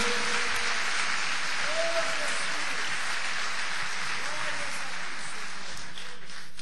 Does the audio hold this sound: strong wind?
no